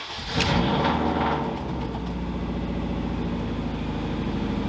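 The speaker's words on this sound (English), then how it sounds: "I want to start the thing real quick." A Honda Fit race car engine cranks and fires up, then settles into a steady, rough idle with a low rumbling drone.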